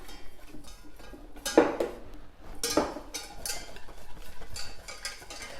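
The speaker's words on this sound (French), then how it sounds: "je mélange avec un peu d'eau pour obtenir une pâte d'abord" A spoon stirs and scrapes through coral-orange lentil paste thinned with a little water in a pot, for a vegan faux gras. Soft, quiet clinks and scraping strokes come in a few distinct bursts, with no talking.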